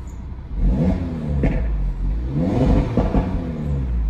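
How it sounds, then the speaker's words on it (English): Audi RS3 Limousine facelift, a 400 hp car, revving with its exhaust valves open in dynamic mode: two loud, close rising blips around a steady idle rumble, with no voices. "So now I can rev it."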